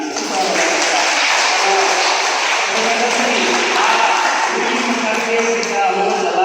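Loud, continuous clapping from a crowd at a laughter yoga session at an Indian yoga institute, steady and dense throughout with no break.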